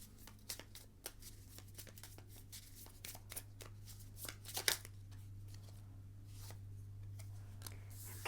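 Tarot cards are shuffled in quick, crisp riffles and flicks, close up and soft, over a faint steady electrical hum.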